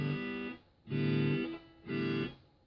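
Agile TC electric guitar played clean through a Twin Reverb amp setting with reverb and modulation off, sounding three sustained strummed chords of about half a second each with gaps between, fairly loud and close, with no talking.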